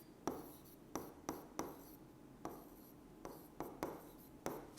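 A pen writes on paper during a Class 6 maths lesson, making a series of short, scratchy strokes at an uneven rhythm. The strokes sound close and clear against a quiet room.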